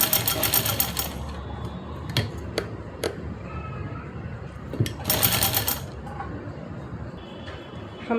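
Sewing machine stitching small pleats into fabric for an Afghani salwar, two loud bursts of rapid mechanical stitching at the start and midway, with quieter clicks and handling noise between.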